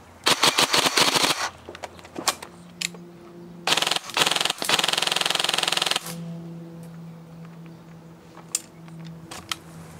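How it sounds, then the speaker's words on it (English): A G&G .308 SBR Mk.1 airsoft rifle fires rapid single shots as the trigger is feathered: two loud bursts of quick, sharp clicking reports close by, with scattered lone shots and a low hum in the quiet gaps between. "Avert your eyes now if you don't like seeing trigger feathering"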